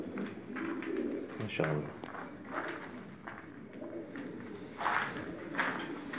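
Pigeons cooing softly in a loft, low repeated coos at moderate distance, with someone talking over them and some shuffling movement nearby.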